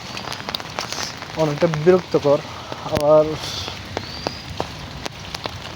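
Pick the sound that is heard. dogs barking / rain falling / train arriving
rain falling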